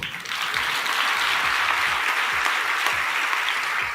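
A congregation claps together in a steady, even stream of many hands, continuous and fairly distant, with no talking.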